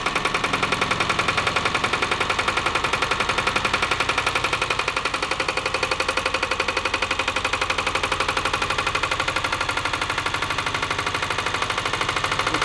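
A Lombardini diesel engine on a Wanco arrow board trailer idles close by in a shop while warming up, a fast, even, clattering beat that holds steady throughout.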